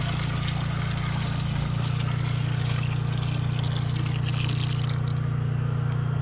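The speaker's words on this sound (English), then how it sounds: "So now we have to pour it again to get all the rest of the sand left in the apple" Thick clay slurry pours from one bucket into another outdoors in a backyard, a steady heavy gushing and splashing that runs continuously, close by, with no talking.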